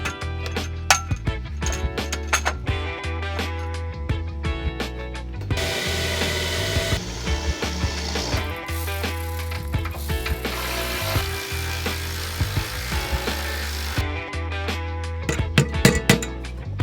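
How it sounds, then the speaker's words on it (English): Rapid ratchet-and-pawl clicking from tightening 6mm nutserts that bolt AGM dual batteries, laid on their side, to a vehicle floor. Bursts of mechanical clicks and metallic taps repeat close by for the whole stretch, with no talk. "I've laid the batteries on their side and bolted them to the floor with some 6mm nut certs."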